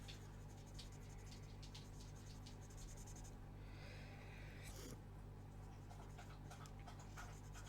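A dog panting softly in the background, steady and faint, under a low hum from a dishwasher and light scratching of markers on a colouring book.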